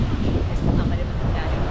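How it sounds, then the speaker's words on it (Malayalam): Wind buffeting the microphone over the sea at Kappil beach in Kerala, a loud rumbling roar with the wash of waves blended underneath, close and continuous. "കടൽ"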